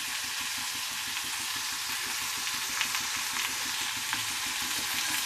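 Papaya frying in a pan with salt and turmeric, stirred steadily so a continuous sizzle and hiss runs throughout, with regular scraping strokes of the spoon, close and fairly loud, no voices.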